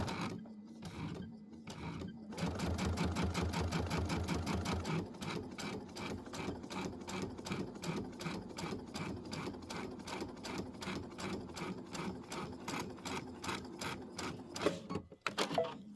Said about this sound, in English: I'm sewing just to the left of the red